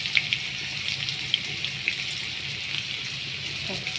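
Potatoes fry in a pan of oil tempered with cumin and bay leaf, producing a steady close sizzling hiss with occasional light pops and spatters.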